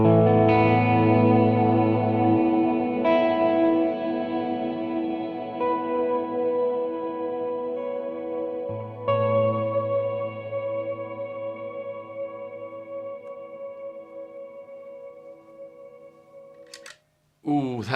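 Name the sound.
Mooer Ocean Machine pedal shimmer reverb at full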